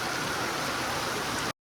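Heavy rain pours down as a dense, steady hiss, loud and close with no breaks, cutting off abruptly at the end; no one speaks.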